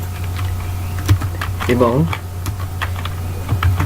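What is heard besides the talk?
typing on a computer keyboard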